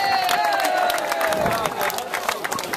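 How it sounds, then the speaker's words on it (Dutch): A crowd at a race podium ceremony applauds steadily and densely throughout, with some cheering mixed in and a voice speaking over the clapping. "ik wil dan nog heel graag een heel dik applaus voor Brenda de Jong, Jacinta van Zijl en de"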